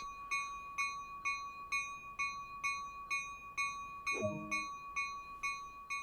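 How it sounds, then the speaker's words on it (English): A locomotive bell clangs in Train Sim World 2 on the Peninsula Corridor line, with a dozen evenly spaced dings ringing steadily at a brisk pace, and a brief low thump partway through. "We haven't heard a bell for a few minutes."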